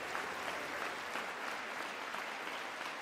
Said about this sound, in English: Notice how McCarthy's not clapping it. Oh, no, he's just clapping it.